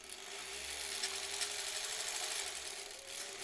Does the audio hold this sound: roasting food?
no